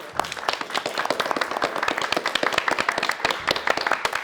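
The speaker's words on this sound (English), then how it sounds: "Round of applause." Studio audience applause at a televised high school civics quiz match, a dense crowd of rapid hand claps sustained steadily throughout at moderate loudness, with no talking.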